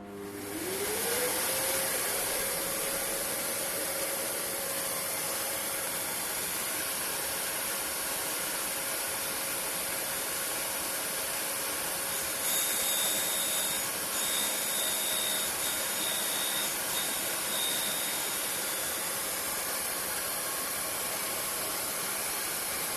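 Solid carbide small-diameter boring bar fed against a spinning grinding wheel: a steady, loud whirring grind with a rising spin-up at the start, continuous and without pauses, a brighter edge appearing partway through.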